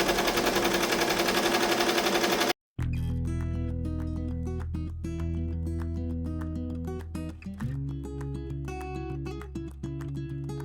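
An embroidery machine stitches a design onto a hoodie with a fast, steady mechanical chatter of the needle, loud and close, after a short burst of noise and a brief silent gap.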